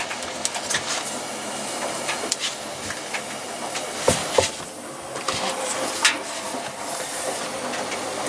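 A Hotpoint WF 860 washing machine runs on test, giving a steady rumbling, hissing mechanical drone with a few sharper knocks and clunks scattered through it, and no talking.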